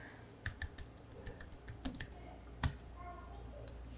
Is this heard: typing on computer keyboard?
yes